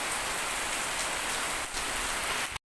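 Heavy monsoon rain pours down steadily in Kerala during flooding, a loud, dense hiss of drops on surfaces that continues unbroken before cutting off abruptly.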